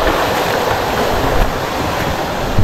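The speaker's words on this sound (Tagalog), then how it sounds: "mini falls lang" A small waterfall on a river gives a steady, dense rush of falling water, loud and unbroken throughout with no voices.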